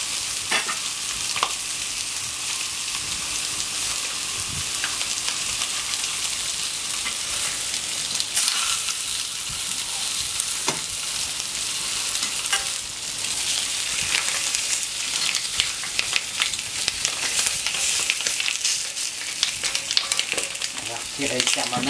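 Cockerels grill on a hot plancha with a dense, steady, close sizzle that persists throughout, broken by occasional faint clicks and scrapes.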